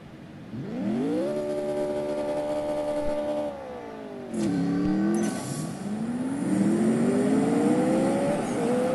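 Game car in CSR2 revving up hard through the gears, nitrous hit in first gear, with rising engine whine, a shift dip, then a sustained surging climb, loud and close with no talk.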